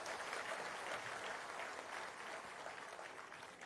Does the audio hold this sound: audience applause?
yes